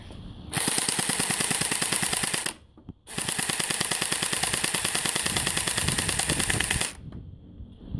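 An MK23 gel ball blaster fired full-auto at a 17-meter outdoor range target, two long, loud, rapid buzzing bursts broken by a short pause.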